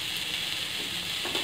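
Ingredients for ponnaganti greens dal frying in a pan, giving a brief, even, dense sizzle up close with a slight stir toward the end and no voices.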